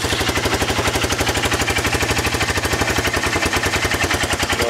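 A rebuilt Honda Fourtrax 300 ATV engine runs steadily after start-up, its rapid, even firing pulses loud and close throughout, with no talk over it.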